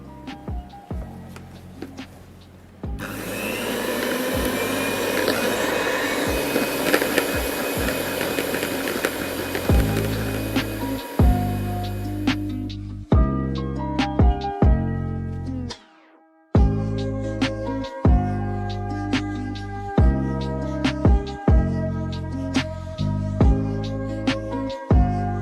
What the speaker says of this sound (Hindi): अब अपने ब्लेंडर को नंबर 2 पे 2 से 3 मिनट के लिए चलाएंगे